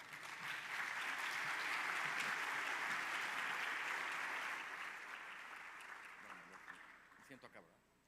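Sustained applause from an audience at a business forum after a political talk, steady and dense for several seconds, then thinning to scattered claps and a few last hand claps near the end.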